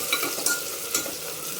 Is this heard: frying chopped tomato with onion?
yes